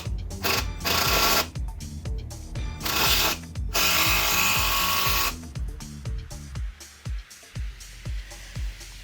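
Big black screws driven into the wooden frame of a porch swing with a power driver, loud bursts of whirring with rapid ratcheting clicks, pausing and restarting several times.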